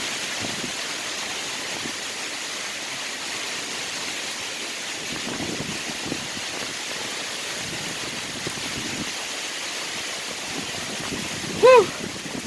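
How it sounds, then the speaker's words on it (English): Heavy rain pours steadily in a windy thunderstorm, a dense, constant roar close to the microphone with no clear gaps, and a brief short vocal exclamation near the end. "we have a bad rainstorm hitting us"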